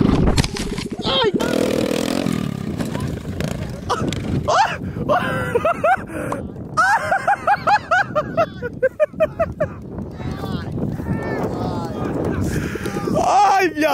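A small mini quad bike engine revs loud and close after the vehicle overturns, buzzing and sputtering steadily alongside excited shouting and groans from young men nearby.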